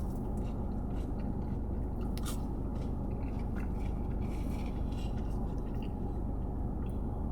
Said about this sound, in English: Let's try one of the fries first.